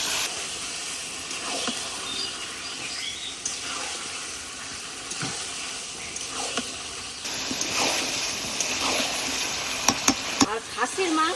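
Goat meat frying in spiced oil with salt for a son-in-law's meal, a steady hiss and sizzle that grows busier as the meat goes in, with occasional pops and stirring.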